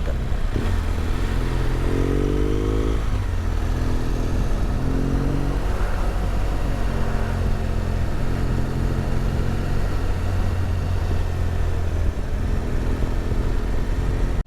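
A motorcycle engine drones steadily while riding in traffic on a tour near the Grossglockner High Alpine Road, its pitch rising and falling as it revs through gears, with road noise throughout.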